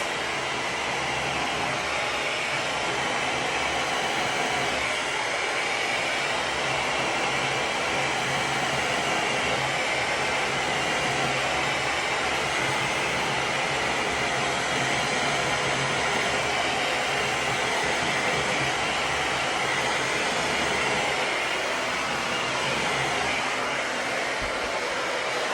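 A hair dryer blows steadily on damp hand-tied hair extensions at home, a loud continuous whooshing roar with no breaks throughout.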